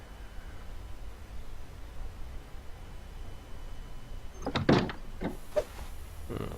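A door opens in the snowy survival game The Long Dark, heard as a short cluster of creaks and clunks after several seconds of quiet wind hiss, with a couple of lighter knocks trailing off.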